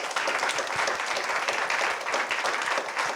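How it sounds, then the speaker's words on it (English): A large audience applauds steadily, a dense, even wash of clapping that fills the whole moment without letting up. "Huge round of applause"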